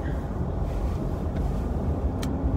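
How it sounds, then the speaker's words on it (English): An old, rusty car drives along with a low, rumbling engine and road drone, steady and moderately loud from inside, with a faint brief click near the end. "as you can hear my car is pretty old and pretty rusty but it's still driving"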